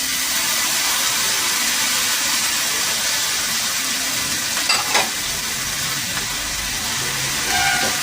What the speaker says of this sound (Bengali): পেঁয়াজটা ভাজা ভাজা হচ্ছে।